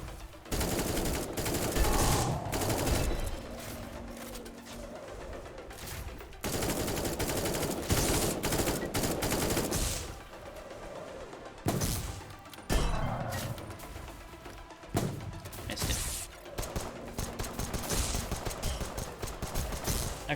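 Repeated shotgun blasts and bursts of gunfire in a first-person shooter video game, loud and dense, firing in clustered volleys with short pauses between them, with no talking over it.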